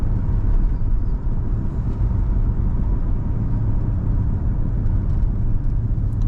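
A weathered, original 1967 Pontiac LeMans two-door hardtop rounds a corner and accelerates, its engine a steady, loud low rumble throughout with continuous road and drivetrain noise.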